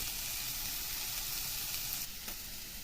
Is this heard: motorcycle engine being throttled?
no